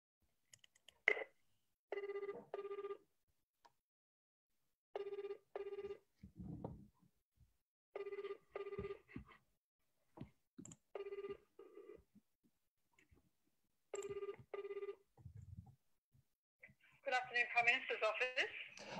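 A telephone on loudspeaker rings out while calling the Australian Prime Minister's office: about six evenly spaced double-ring bursts, fairly faint in a quiet room, with a voice answering at the end.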